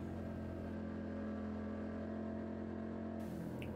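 A Suzuki SV650 motorcycle rolls along in second gear on a cool-down lap at Eastern Creek in sketchy wet conditions, its engine a steady, even drone heard close up with constant wind noise and no change in revs.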